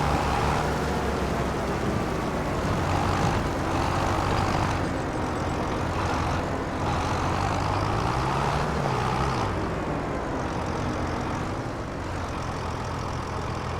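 Tractor engine in Farming Simulator 25 driving across town, a steady loud diesel drone and rumble throughout, continuous with slight shifts in pitch, no talk.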